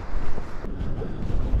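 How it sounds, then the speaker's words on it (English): Winter wind gusts roar through a small tunnel beneath the seaside pier at Saltburn, a brief, loud, buffeting rush right against the microphone with no voices. "Quite windy in this little tunnely bit"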